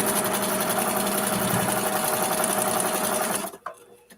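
Sewing machine stitching quilt blocks, a loud rapid continuous whirring chatter lasting several seconds before stopping abruptly, followed by a faint clunk.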